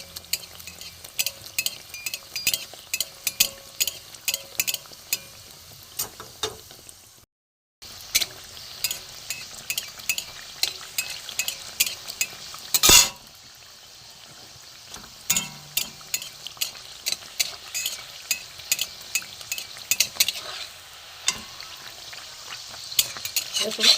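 Rice-flour pitha fries in hot oil with a steady, close sizzle, broken by repeated clinks and scrapes of a spoon ladling oil over the top, a brief gap of near silence and one sharp knock.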